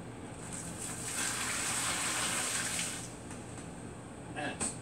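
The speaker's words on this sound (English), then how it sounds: "And then we just pour this over the corn." Sugar and salt brine is poured over ears of corn in a cooler, a steady gushing splash lasting a few seconds before trailing off, with a brief louder splash near the end.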